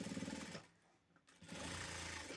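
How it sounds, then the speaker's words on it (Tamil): A sewing machine stitches a blouse with lace work, running in a rapid, steady mechanical whir, pausing briefly near the middle before resuming at a close, even pace. "கரெக்டாக தையல் போட்டுக்கிறேன்."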